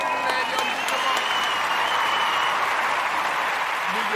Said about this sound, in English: All of the Umoja babies a round of applause